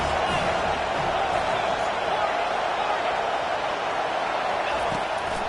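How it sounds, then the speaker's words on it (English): A football stadium crowd roars for the defense on third down, late in the first half of a tight game. The roar is loud, steady and continuous throughout. "Decibels rising as the crowd gets behind this defense on 3rd down"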